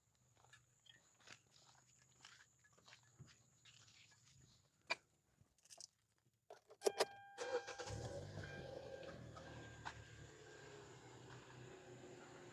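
A car in the middle of being worked on is first handled near the microphone with a few clicks and knocks. Then its engine cranks and catches, settling into a steady idle with a continuous hum as the AC compressor kicks on.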